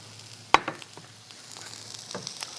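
Carrots and broccoli stir-frying over high heat in a hot pan for pad thai, a steady close sizzle broken by sharp scraping clinks as a utensil stirs and tosses the vegetables.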